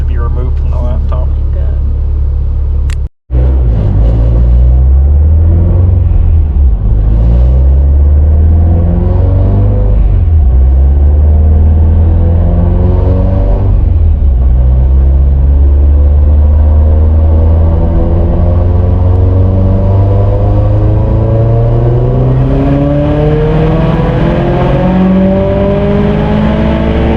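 An RA car engine on a dyno, running stock connecting rods, revs hard and loud for a sustained stretch, its pitch climbing and falling in long sweeps with a brief cutout near the start.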